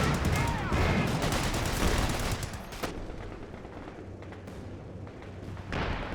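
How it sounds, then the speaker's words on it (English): Indirect artillery fire in Company of Heroes 2 lands as a dense barrage of booming blasts and crackling gunfire early on, then thins to scattered distant thumps and rumbles as the battle continues. "A lot of suppression, a lot of indirect fire now."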